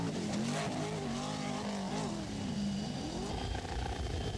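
A rally car, a big Rover, revs and drones past at the 1984 Dubai International Rally with rising and falling pitch, fairly faint and distant, under a steady wash of noise.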